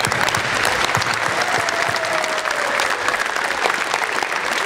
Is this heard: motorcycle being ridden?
no